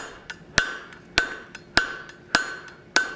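A forging hammer rings on metal over the horn of an anvil in a steady rhythm, about six sharp, bright clanging blows with lighter taps in between, close and loud.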